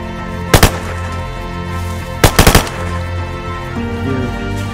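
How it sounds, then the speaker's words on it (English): Gunshots in the survival game DayZ on the Livonia map: one quick double shot, then a tight burst of three to four loud cracks a moment later, close against quiet background. "Rolf, I'm shooting you."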